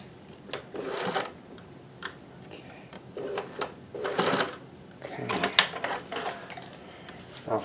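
A home sewing machine stitches a hem, running in short rapid mechanical bursts separated by brief pauses, close and fairly loud with ticking clicks between runs.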